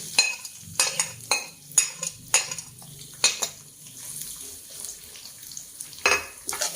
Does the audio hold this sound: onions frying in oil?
yes